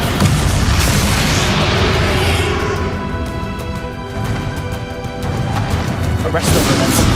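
A Descendo spell slams down in Hogwarts Legacy, a loud, sustained booming impact with heavy low rumble, briefly easing before another forceful crash swells back up.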